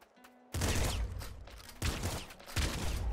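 Three loud, close shotgun blasts from Nuclear Throne go off in quick succession, each a sharp burst with a short decaying tail after a brief quiet lead-in.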